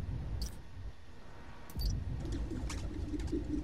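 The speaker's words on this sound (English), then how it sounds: "It's birds." Soft bird coos and faint calls in the video game Spider-Man Miles Morales over a low background rumble, with a few light clicks; no one speaks.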